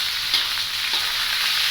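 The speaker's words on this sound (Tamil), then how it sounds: "கடுகீரையும் கேரட்டும் இதை போட்டு கொஞ்ச நேரம் வதக்குங்க." Mustard greens and carrot sautéing in a pan give off a soft steady sizzle with faint stirring scrapes, close and alone without speech.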